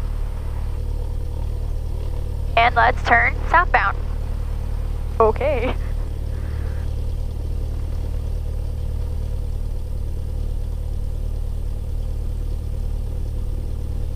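A small training airplane's piston engine idles steadily while taxiing with the parking brake released, a constant low drone under brief cockpit talk from the pilot.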